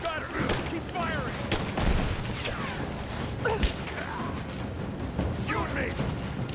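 Gunfire in the video game Rise of the Tomb Raider crackles in repeated bursts and scattered shots under intermittent talk, with a busy, continuous backdrop of combat noise.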